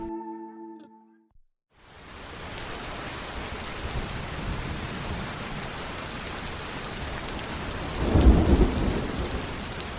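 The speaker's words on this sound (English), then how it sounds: "Rain pours down heavy as you reach the clearing" Heavy rain and thunder as a storm sound effect, a dense steady downpour hissing after a short quiet gap, with a deep rolling thunder crack near the end.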